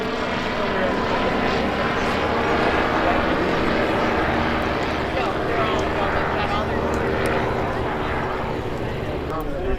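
A Revo ultralight trike flies high overhead at an ultralight runway airshow, its propeller engine droning steadily and distantly for the whole stretch under crowd noise and outdoor ambience.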